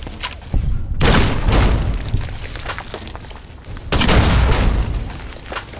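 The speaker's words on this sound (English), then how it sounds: "this is just the perfect time for a grenade launcher, isn't it? Grenade rifle!" Grenade rifle fire in the Fallout New Vegas video game: two heavy booming blasts about three seconds apart, each a loud broadband burst with a rumbling tail.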